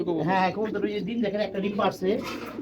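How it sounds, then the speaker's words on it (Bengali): Bagha pigeons coo in close, rolling throaty bursts, mixed with a man's speech nearby. "এগুলি বাঘা কবুতর"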